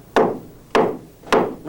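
A small hammer knocks three times on something loose, evenly spaced and close, each strike a sharp woody crack with a short decay.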